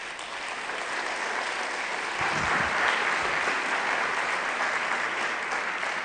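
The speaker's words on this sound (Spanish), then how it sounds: "Un aplauso, por favor." Steady applause from a seminar audience welcoming marketing panelists, dense and sustained throughout with a slight swell in the middle, fairly close and with no talking over it.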